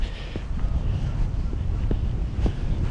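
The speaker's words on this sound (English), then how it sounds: "so hopefully that'll cut out a lot of the wind noise" Steady wind buffeting a camera microphone fitted with a fluffy windshield on an exposed Iron Age hill fort, a continuous low rumble with irregular gusty thumps throughout, fairly loud and with no talking.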